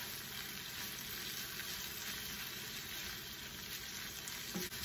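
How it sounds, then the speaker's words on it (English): Sirloin steak and sautéed onions fry in a pan for a keto Philly cheesesteak, giving a steady, even sizzle that keeps going without a break at moderate loudness, with no voices over it. "we're going to return our sauteed onions back into the pan and get that going"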